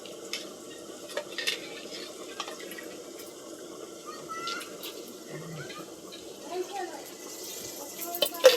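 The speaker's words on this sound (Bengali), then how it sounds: "ঢাকনাতে কিছুটা লেগে আছে, তো এতে সামান্যটা একটু জল দিয়ে দিচ্ছি।" A little water trickles into a pan of prawn curry, rinsing paste off the lid, with faint splashes and stirring in a quiet kitchen while someone talks.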